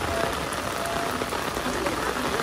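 Heavy rain pours at a graveside in Vietnam, a dense, steady, even hiss of drops drumming on surfaces, loud and continuous with no gaps.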